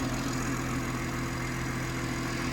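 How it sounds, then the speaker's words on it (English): A BMW straight-six TwinPower Turbo engine idles under an open bonnet, a steady, even low hum and rumble heard close up with no voices. "that's a straight 6 BMW engine with a twin power turbo"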